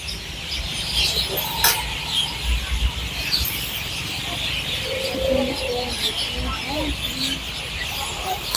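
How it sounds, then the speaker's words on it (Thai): Many birds call and chirp over a busy outdoor festival background at a candle parade in Ubon Ratchathani, with scattered cooing and crow-like caws, moderately distant, mixed with faint crowd noise. "เสียงนกเสียงกาแบบเยอะเลยค่ะทุกคน"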